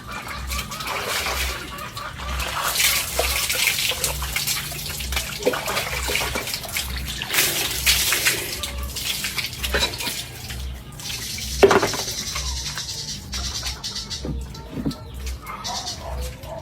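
Someone bathing outdoors in a rural province setting, with continuous running and splashing water, intermittent louder splashes, close by, and birds faintly in the background.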